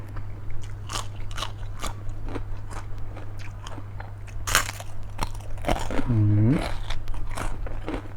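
Someone eats spicy dried-chili papaya salad with rice noodles and crispy pork, with close, repeated crunchy bites and chewing over a steady low hum, plus a brief voice now and then.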